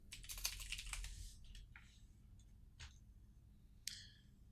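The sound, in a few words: typing a search into Google on a computer keyboard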